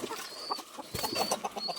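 Laying hens cluck in short, repeated bursts at feeding time, mixed with higher bird-like calls against light background noise.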